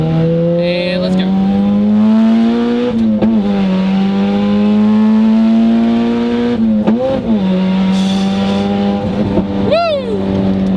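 A turbocharged B20 Honda EG car accelerates hard, the engine loud and close, climbing through the revs in a sustained pull with brief drops between gear shifts.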